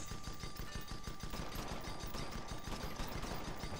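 Guns on an airship fire in rapid bursts in the Guns of Icarus Online game, a dense, steady machine-gun-like rattle that continues without pause.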